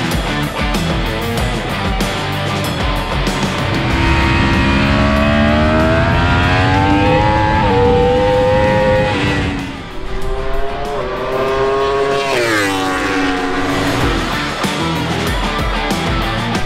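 A 200,000-euro EWC endurance racing superbike engine revs hard and climbs through the gears, loud and close, briefly dropping off before screaming up again.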